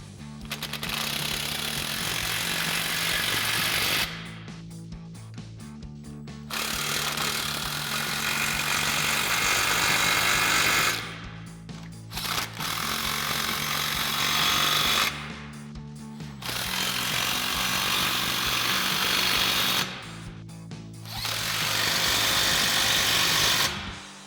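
A power tool, likely an impact wrench, tightens fasteners on a MagnaFlow Competition Series cat-back exhaust being installed on a Dodge Challenger, running in loud sustained bursts of several seconds separated by brief pauses, with no talk.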